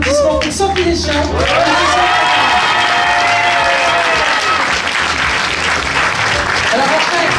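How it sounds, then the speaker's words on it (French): Rally crowd in Neuilly-sur-Seine applauding and cheering for a local elected official, loud sustained clapping with shouts and cheers rising over it, a voice speaking over the noise at the start. "je vous demande vraiment de faire un tonnerre d'applaudissements pour Sophie Deschamps"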